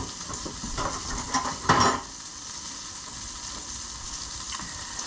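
Jimmy Dean sausage cooking slowly in a pan gives a steady close sizzle and hiss, with a brief louder clatter of pan or utensil early on, then even frying, and no voices.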